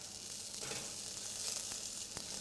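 Meat pieces sizzle on a grill rack over a heat source, a steady fizzing hiss with a few faint clicks and scrapes, moderately quiet and with no talk.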